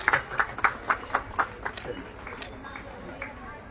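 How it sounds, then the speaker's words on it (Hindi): An audience at an official ceremony claps in a burst of about seven strong, evenly spaced claps before the applause thins into scattered softer clapping and murmuring. "आपकी जोरदार तालियां।"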